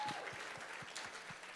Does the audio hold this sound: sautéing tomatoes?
no